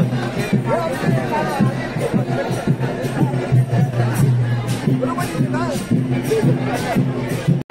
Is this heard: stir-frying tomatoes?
no